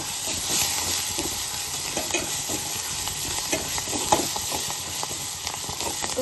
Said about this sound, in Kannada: ಇಲ್ಲಿ ಕರಿಪತ್ತ, ಕೊತ್ತಂಬರಿ ಚಲೋ ಫ್ರೈ ಮಾಡಬೇಕು.